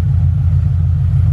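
A Ford Crown Victoria engine fitted with a custom headlight intake snorkel runs at a steady idle, a low, even rumble close up and alone for a brief moment.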